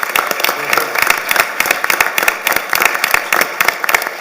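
An audience at a college board of trustees meeting applauds the faculty, producing a dense run of many hands clapping throughout, fairly loud and close, with no words over it.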